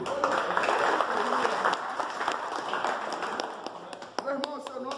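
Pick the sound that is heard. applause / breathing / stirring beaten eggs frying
applause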